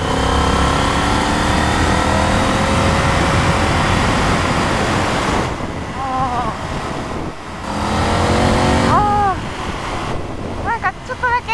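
A Honda HAWK 11 motorcycle accelerates a little, its engine note rising under heavy wind rush from riding at speed. Brief rising whines cut through the roar, and a rider's voice comes in between.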